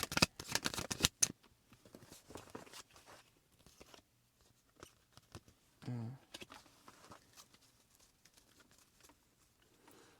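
Tarot cards being shuffled and pulled, a fast run of crisp riffling flicks at the start, then scattered soft slides and taps as cards are drawn, close and quiet.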